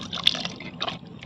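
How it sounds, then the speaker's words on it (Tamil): Water is poured into a simmering bottle gourd and moth bean gravy in a cooking pot, a brief, close, splashy trickle with a couple of liquid drips. "கொஞ்சம் தண்ணி அலாசி ஊற்றிக்கலாம்."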